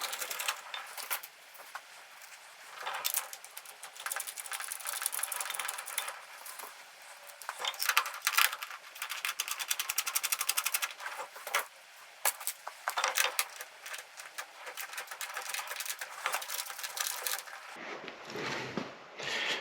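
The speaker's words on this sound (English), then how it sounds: "we may have to switch over to a wrench, a 12mm wrench on this" Metallic ratcheting and clinking of a 12mm wrench snugging bolts on a Harbor Freight Yukon 26-inch mobile workbench, steady rapid ticks close up that cut off near the end.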